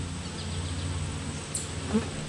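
Honey bees buzz around an open hive in July, a dense steady drone close by with individual bees whizzing past the microphone.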